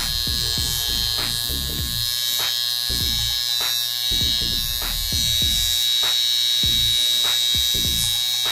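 Portable LZ 006A high frequency facial device running at its strongest setting, a loud continuous electric buzz with a high whine and repeated crackling zaps over several seconds, close, with no talking.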